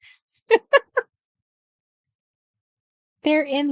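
A cat meows close by, first with three short chirpy calls, then a pause, then a longer drawn-out meow at the end.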